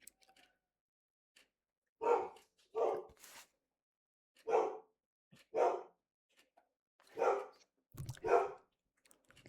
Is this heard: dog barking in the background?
yes